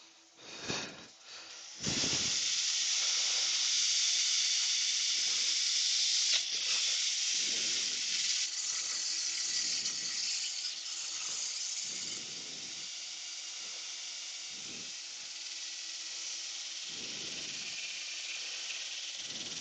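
Sandpaper working a live edge wooden bowl spinning on a woodturning lathe, a steady loud broadband hiss that runs continuously for most of the stretch after a brief quieter start, with no talk.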